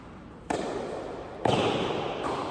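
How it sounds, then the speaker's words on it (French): Two sharp, heavy thuds of feet stamping on a hard floor during a tournament match, about a second apart, over a rumbly background noise. "je fais du bruit avec mes pieds quand je monte"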